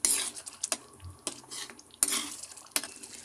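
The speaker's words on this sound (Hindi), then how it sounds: "इसमें मलाई ऐड करेंगे, इसे भी अच्छे से मिक्स कर लेंगे।" A spoon stirring cream into kofta gravy in a pan, a few distinct scraping strokes against the metal with short gaps between them, close and moderately loud.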